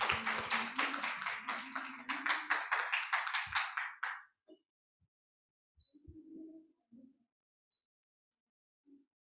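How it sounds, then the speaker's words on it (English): An audience at a World Immunology Day event gives a warm round of applause, with rhythmic clapping for about four seconds that stops abruptly, followed by quiet room sounds and a few faint murmurs. "Can we have a warm applause to Dr."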